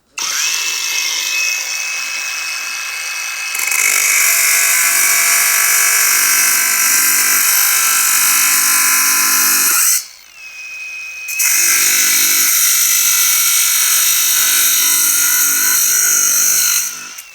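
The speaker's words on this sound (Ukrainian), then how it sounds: "У нас же тепер болгарка GTM. І не треба переноску розмотувати. Взяли і відрізаємо" A loud, high-pitched GTM angle grinder whines through a cut, stops briefly, then cuts again with a harsh, sustained screech.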